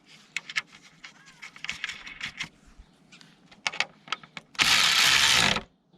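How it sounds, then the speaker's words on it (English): A 10mm socket ratchets a nut tight on a BMW E60 M5 alarm siren module, giving a run of quick close mechanical clicks and ticks, followed by a louder sustained burst of rattling near the end. "Then we'll refit the nut that takes a 10mm socket."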